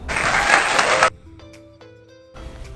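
Loud applause from an audience greeting celebrities rings out for about a second, then cuts off abruptly, leaving a quieter stretch of faint tones before crowd noise returns.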